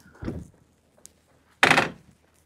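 A stable door at an equestrian setting swings open, with a dull knock followed by a louder scraping, creaking rush about a second later. Both sounds are close, and no voices are heard.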